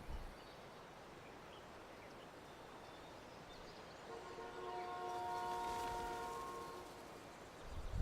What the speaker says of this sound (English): Honk the horn just for the heck of it.